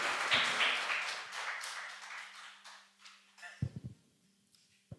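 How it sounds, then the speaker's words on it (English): Audience applause for a panel of speakers at a campus event, a dense wash of clapping that fades over a few seconds, then a few scattered claps and faint noises as it dies away. "just give a round of applause for the panelists"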